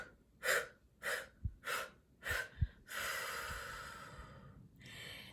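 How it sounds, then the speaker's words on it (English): Deep belly breaths forced out in short pulses during a guided breathing exercise: four sharp, close puffs through the nose, then a longer sustained exhale and a softer breath to finish. "nice big belly breath in"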